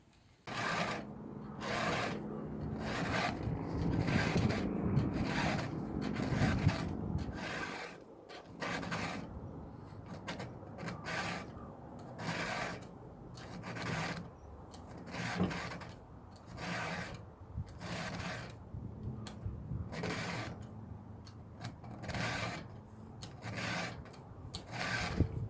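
A file sharpens the saw chain of a wood processor, a long series of quiet, evenly spaced rasping strokes heard up close, with no talking.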